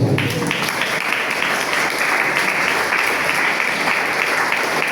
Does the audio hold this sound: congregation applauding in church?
yes